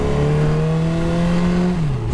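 A motorcycle, apparently a Ducati Panigale that may need a tune, holds a steady, loud, close engine note that sags slightly near the end.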